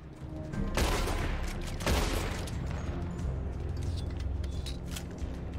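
Gunfire from a multiplayer shootout in the Red Dead Redemption Online video game, with dense overlapping shots, two heavier bursts near the start, then a steady crackle of scattered shooting throughout.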